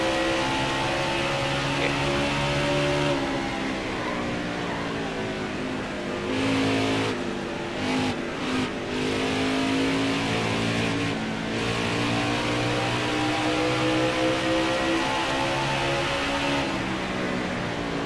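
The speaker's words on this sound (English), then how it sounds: "I saw the two cars going down pit road right now" NASCAR Pinty's Series race cars roar down pit road with high, sustained engine tones that rise and fall, loud and continuous, with brief dips as cars move by.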